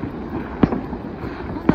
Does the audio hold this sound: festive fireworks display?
yes